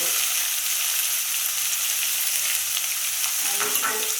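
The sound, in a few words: chopped onion, ginger and garlic frying in a pan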